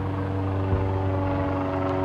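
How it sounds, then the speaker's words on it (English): A steady, loud droning engine hum with a low rumble, like an aircraft passing overhead, constant throughout without voices. "It's not this car, it's the airplane."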